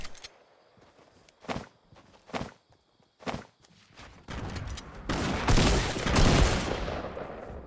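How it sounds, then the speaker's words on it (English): Gunfire in Fortnite gameplay: several sharp, separate shots in the first half, then a louder, denser burst of shooting and impacts that fills the last few seconds. "They are shooting at us."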